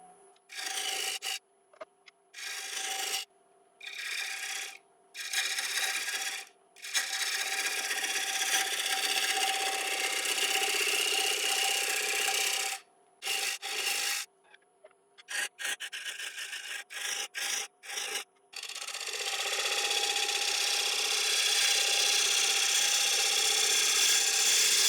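Oak being shaped on a woodturning lathe for a split oak platter, with a tool scraping and rasping against the spinning wood in repeated bursts separated by brief pauses, then a longer continuous cut at the end.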